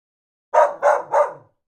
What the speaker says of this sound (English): He barks with joy and gives a hug.